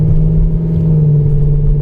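A 2012 Mercedes-Benz C63 AMG (W204) with a P2761 transmission fault struggles to accelerate, its engine holding a loud, close, steady low drone and rumble without rising in pitch.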